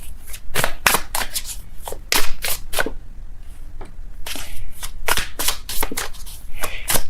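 Tarot cards are shuffled in repeated quick riffling bursts with short pauses between them. The sound is close and clear, with no talking.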